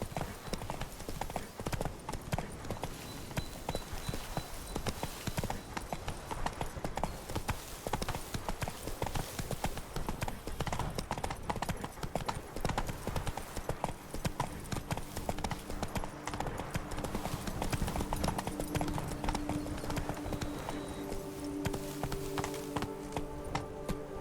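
Roach the horse gallops in The Witcher 3, hooves pounding in a rapid, unbroken clip-clop that stays loud and close for the whole stretch.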